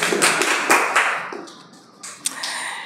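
An audience at an academy quiz competition applauds a team with dense, fairly loud clapping that fades, then picks up again in short scattered bursts.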